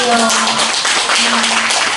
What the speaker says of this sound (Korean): 다시 한번 우리 언니한테 박수 한번 주세요